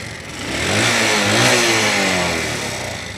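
A Honda 70 motorcycle engine revs up close, a steady mid-pitched drone that swells a little and holds for a few seconds, with no talking.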